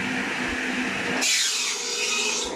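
An aerated concrete (Ytong) block is cut by hand with a saw, giving a steady, loud, gritty rasping scrape that turns brighter and harsher partway through, with no talking.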